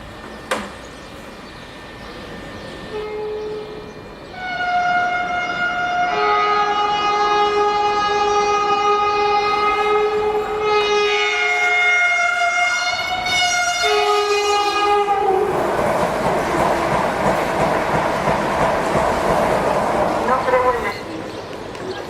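A train runs through a station in Benifaió-Almussafes without stopping, its horn blaring in long sustained tones for several seconds while the rumble of the passing cars builds and stays loud to the end.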